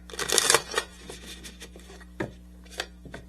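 A tarot deck handled and shuffled by hand, a brisk cluster of close riffling card flicks up front followed by a few lighter taps and slides, alone without talk.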